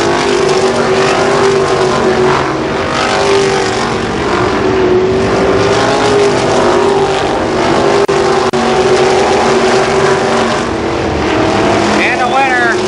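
Sprint cars race at Columbus Motor Speedway, a loud, sustained engine roar with wavering pitch as the pack circles the track, droning continuously for over twelve seconds while a public-address announcer talks over it.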